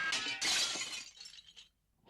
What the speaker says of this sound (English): The glass jar shatters on impact, raining shards onto the tile below.